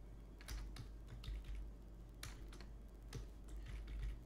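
Keys clatter in quick irregular bursts as someone types a web address on a computer keyboard, close and fairly quiet over a low steady hum, with no talking.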